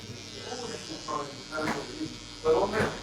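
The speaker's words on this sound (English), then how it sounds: "Now grab your trimmer" A barber's electric hair trimmer buzzes in bursts during a skin fade haircut, its hum close and soft, rising and falling as it passes over the head, with no talking.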